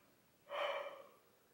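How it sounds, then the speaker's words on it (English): One person yawns once, close and quiet: a short breathy intake swelling into an open-mouthed exhale that fades within about a second, with a silent room around it. "I'm only human. Sometimes I gotta yawn."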